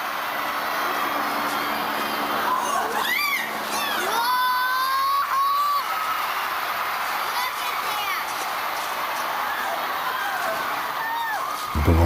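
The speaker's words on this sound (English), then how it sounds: "Pictures snapping, cameras going off, people cheering." A huge downtown Cleveland crowd cheers at a mass balloon release, a steady roar of many voices with scattered whoops and shouts held at a constant loud level.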